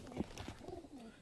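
Teddy pigeons released into the open give soft, low cooing, faint and somewhat muffled, with a few short pulsing coos over about a second.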